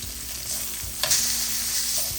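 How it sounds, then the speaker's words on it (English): Lamb shank sears in a hot pan, giving a steady close sizzle and hiss with a brief louder burst of spitting about midway as the meat shifts. "I'm gonna sear this off on each side for about roughly 5 or 6 minutes"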